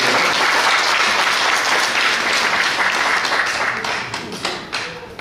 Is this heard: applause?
yes